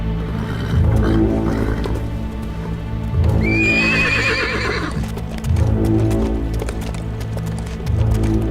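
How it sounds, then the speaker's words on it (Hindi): A horse neighs loudly in a drama scene, one shrill, rising and wavering whinny standing out in the middle, set against repeated hoof clops and snorts close by. "इज़ादोरा, ये घोड़ा पुरसुकून और बहुत समझदार"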